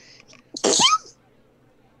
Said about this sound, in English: Insane Kitty makes fun of my sneezes